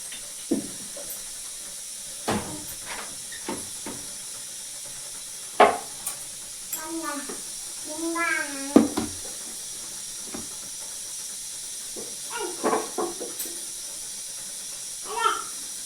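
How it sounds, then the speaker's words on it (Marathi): Cooking oil heats in a pan on a home stove for a Maharashtrian tur bean dish, giving a faint, steady hiss with scattered small pops and chirpy clicks. "छान तेल गरम होऊ द्यायचं."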